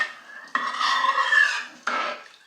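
A spoon stirs rice and water in a pot, scraping and rasping against the bottom in two long strokes with a short break between, close and clear with no talking.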